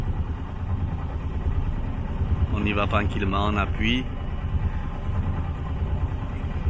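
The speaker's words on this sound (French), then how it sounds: "Le moteur ralenti, il a 1000 tours." A sailboat's engine idles at 1000 rpm under way as a steady low mechanical drone, while someone speaks briefly over it partway through.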